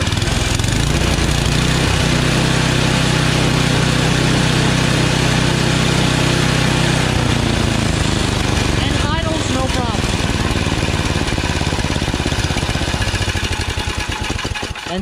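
A Yard Machines snowblower's Tecumseh engine runs steadily at full throttle after a carburetor replacement, a loud, close, even drone with no surging.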